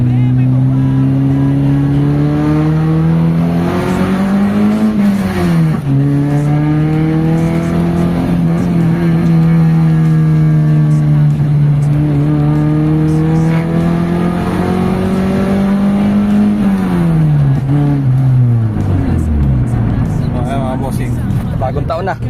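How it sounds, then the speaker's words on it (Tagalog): A car with a loud aftermarket exhaust revs and accelerates through gear changes on a test drive after a clutch replacement, a continuous close droning roar rising and falling in pitch, with someone talking over it. "Sobrang ingay ng tambutso."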